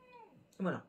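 A pet cat gives one loud, close meow while romping with a dog at home, right after a brief spoken word.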